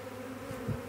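A honey bee swarm flying in along a driveway, a dense continuous buzz of many wings, loud and close, with a brief low thump near the end.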